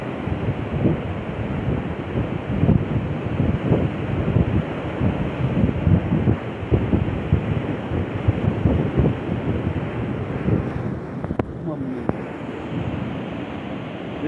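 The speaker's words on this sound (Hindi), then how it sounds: "देखो कितनी तेज पानी चल रहा है," Fast, powerful river water rushes beneath a bridge in a constant, loud roar with heavy wind buffeting the microphone, and no voices are heard over it.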